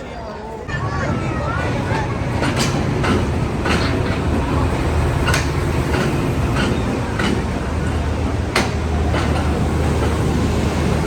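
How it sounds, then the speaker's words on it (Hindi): A passenger train rolls into a station, its wheels clattering in a steady clickety-clack over loud, continuous rumble, with sharp rail clanks and a crowd babbling and talking nearby on the platform. "इतनी ट्रेन आ गई है, कितने टाइम बाद आई है?"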